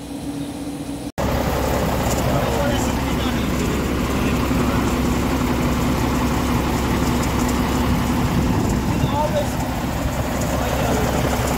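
Truck diesel engine running with a fault that pushes compression into the radiator coolant, giving a steady, close, continuous rumble that starts abruptly and holds even throughout.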